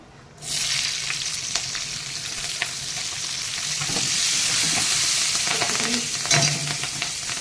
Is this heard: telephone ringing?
no